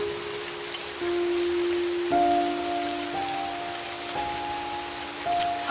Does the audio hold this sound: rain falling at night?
yes